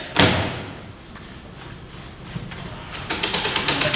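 A heavy thud opens, as if someone is trying a locked front door; quieter rattles and knocks follow, then a run of quick clicking taps near the end.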